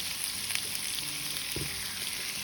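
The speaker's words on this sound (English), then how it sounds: "we're going to add a little bit of butter to the pan" About three tablespoons of butter sizzle and crackle in a pan with browning fondant potatoes and garlic, a dense steady hiss close up with a few soft stirring bumps.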